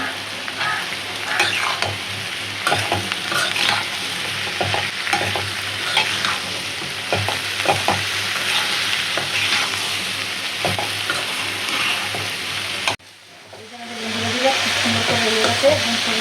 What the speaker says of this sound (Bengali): দিয়ে দিলাম সুন্দর করে ভেন্ডিটা ভাজি করবো